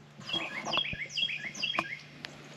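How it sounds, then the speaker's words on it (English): Several birds chirp and trill in quick, bright phrases at Shenandoah River State Park, one voice repeating a rising whistle over a soft steady background hum. "as well as listening to the birds"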